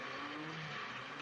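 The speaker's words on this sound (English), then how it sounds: "Sounds like car engines." Car engines running outside at night, a steady low rumble with a faint rising hum, heard at a distance and fairly quiet throughout.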